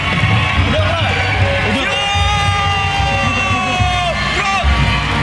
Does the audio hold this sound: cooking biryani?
no